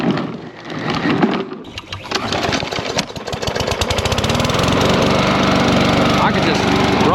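A push lawn mower's engine runs close by, rising to a steady, loud drone that holds through most of the stretch as the mower is pushed back and forth.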